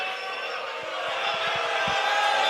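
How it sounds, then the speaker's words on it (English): A large draft-night crowd booing the Green Bay Packers pick, a loud, sustained roar of jeering voices filling the space, with a few low thumps underneath. "It's the perfect storm of booing."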